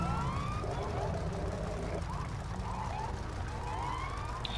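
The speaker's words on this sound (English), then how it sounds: "Stop doing the sirens." Police siren in a GTA V roleplay session wails in rising and falling sweeps, moderately loud and continuous over steady engine and road noise, with a brief electronic tone near the end.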